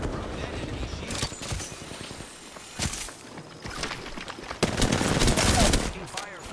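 Bursts of gunfire in a competitive multiplayer shooter on Xbox, several sharp volleys and rapid shots spread irregularly over a noisy battle, with footsteps and some game voice lines mixed in.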